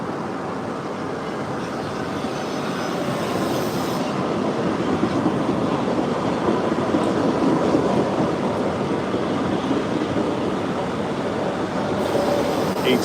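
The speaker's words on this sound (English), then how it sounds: "that train's now arriving." A train arriving at a station rumbles steadily past at close range, a continuous loud roar of rolling wheels and rail noise with faint clattering, no voices.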